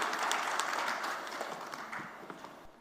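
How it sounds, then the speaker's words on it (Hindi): Audience applause at a multilingual poets' gathering as a poet is welcomed to the stage, a steady dense patter of many hands that tapers slightly over a few seconds. "जोरदार तालियों के साथ स्वागत कीजिए।"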